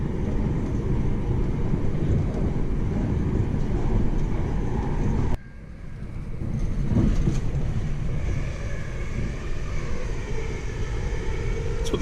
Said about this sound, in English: Currently on the train, I'm just heading down to Chichester, and this is about to stop in Horsham.